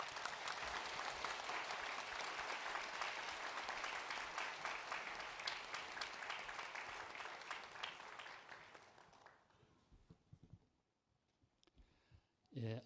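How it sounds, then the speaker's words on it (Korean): A church congregation applauds to welcome a visiting seminary professor, a dense, steady wash of many hands clapping that holds strongly for about nine seconds, then thins out and fades to near silence with a few stray claps. "우리 교수님 뜨거운 박수로 모시도록 하겠습니다."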